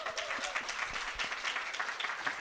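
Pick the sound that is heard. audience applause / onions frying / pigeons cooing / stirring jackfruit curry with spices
audience applause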